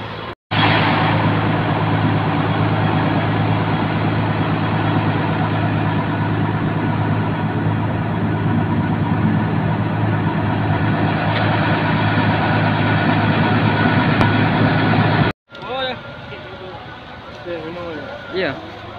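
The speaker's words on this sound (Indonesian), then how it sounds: "Jadi sekarang busnya sebentar lagi diparkir di" A Trans 72 intercity bus on the Makassar–Malili route idles steadily while being parked, a loud continuous low engine drone that cuts out abruptly near the end, followed by faint background sounds.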